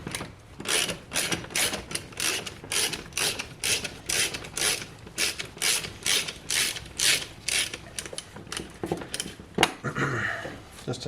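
A hand ratchet works a 10 millimeter bolt loose on a Lexus CT200h engine during a head gasket job, giving a long series of rapid clicking bursts in an even rhythm, close and clear with no voice.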